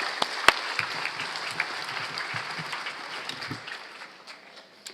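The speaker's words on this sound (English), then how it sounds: "Let's give them a round of applause for their commitment and dedication to CHELCO." An audience at a CHELCO annual meeting applauds the cooperative's board of trustees. The clapping is moderate and sustained and slowly fades over five seconds, with a few sharper claps standing out near the start.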